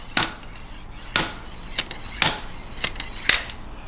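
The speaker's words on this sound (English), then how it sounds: "And this is how the pilot bushing tool works." A pilot bushing puller tool is struck on an engine, giving five sharp metallic hammer blows at roughly one-second intervals, close and loud over quiet workshop background with no talk.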